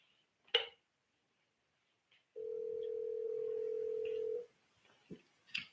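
A telephone line during a call-in to a live radio show, with a sharp click, then a steady unbroken tone lasting about two seconds, followed by a few soft clicks and taps.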